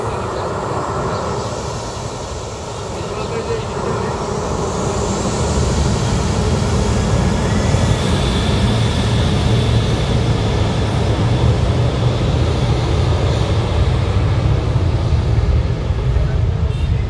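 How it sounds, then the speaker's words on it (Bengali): A US-Bangla domestic airliner approaching to land near Bauniya Battala, flying only a few feet overhead, its engine roar swelling from a distant rumble into a loud, sustained drone that fills the rest of the stretch. "ওই যે আরো একটি ইউএস বাংলার বিমান আসতেছে"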